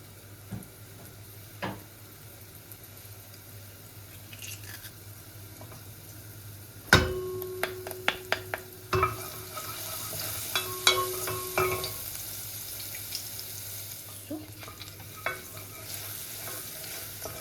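Garlic fries in a pan with a faint, low sizzle. Sharp clinks and scrapes of a utensil stirring against the pan break in now and then.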